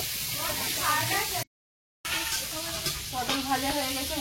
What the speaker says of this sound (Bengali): পটল ভাজা হয়ে গেছে, উঠিয়ে নেবো।